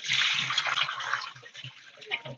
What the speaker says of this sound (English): Right now, I'm going to pour off the rest of the water.